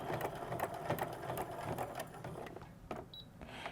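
A sewing machine stitches along the seam lines of a fashion backpack with a convertible strap, giving a close, rapid mechanical chatter in short rhythmic bursts that ease into a brief pause near the end.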